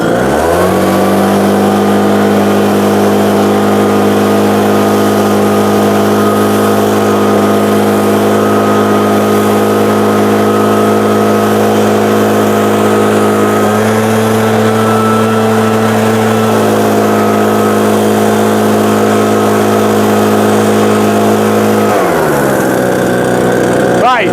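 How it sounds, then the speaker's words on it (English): A petrol backpack leaf blower engine idles with a steady drone, then opens up to a higher, louder whine before dropping back toward tick over near the end. "Right, so this is just on tick over. So I'm not doing anything there. Now let's accelerate it."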